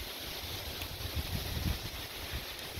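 Wind blows outdoors in a garden with flowers, a steady, close rushing roar buffeting the microphone with low gusty thumps throughout.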